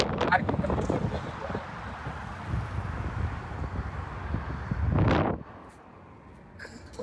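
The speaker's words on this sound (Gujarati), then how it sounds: "ગાડીનું એસી આપણે બંધ કરી દીધું છે, નેચરલ પવન આવે છે" Gusty wind rushing in through the open sunroof of a moving car, rising to a loud whoosh before easing, with voices talking over it.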